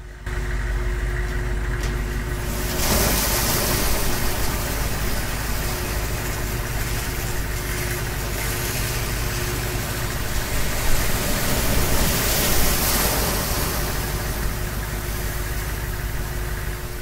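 Kerosene-fuelled machinery in Silent Hill 3 rumbles to life, a brief quieter moment giving way to a loud, steady mechanical drone that holds for the rest of the stretch, with no voices.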